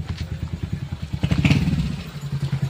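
A motorcycle approaching at night, its engine putting out a rapid pulsing chug that grows louder and nearer, then settles into a steadier throb.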